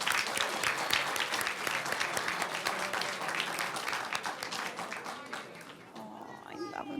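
A room at a school board meeting breaks into applause for a student, a dense, steady patter of many hands clapping that fades somewhat toward the end.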